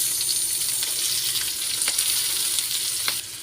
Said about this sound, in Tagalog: Sunod natin ng bawang. Yan. Sunod natin ang sibuyas.